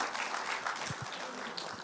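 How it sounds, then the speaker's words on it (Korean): A lecture audience at a Korean CEO breakfast seminar on the economy claps in a steady, dense patter of many hands, moderately loud and continuous from start to finish, with no voices over it. "우리 박수 한번 크게 부탁드리겠습니다"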